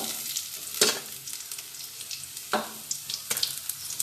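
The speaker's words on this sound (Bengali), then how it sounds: "এইরকম লাল লাল করে সবগুলো আমি ভেজে নিচ্ছি" Oil sizzles and crackles steadily as kofta balls deep-fry, with a few sharper bursts of spattering stirred up along the way.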